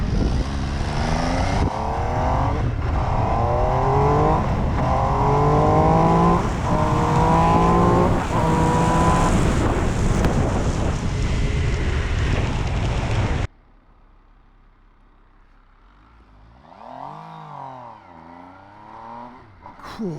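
An MV Agusta Dragster RR motorcycle is ridden hard, its loud engine climbing repeatedly in pitch through successive gear changes for several seconds. It then cuts to near quiet with only a faint passing engine swell at the end.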